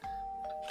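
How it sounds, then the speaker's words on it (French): A doorbell chimes once, close and clear, with a short two-tone ding-dong ringing over a quiet indoor background. "Ouais, sonnette, non, on n'en peut plus."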